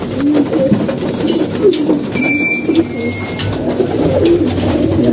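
Many pigeons coo together at feeding time, low burbling calls repeating close by over a constant noisy background, with a brief high electronic tone sounding partway through.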